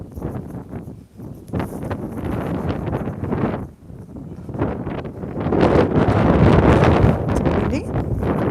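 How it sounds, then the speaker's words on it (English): Gusty wind roars into the microphone near the Woody Point jetty by the water, rising and falling in loud bursts across the whole stretch, heaviest toward the end. "It's a bit windy"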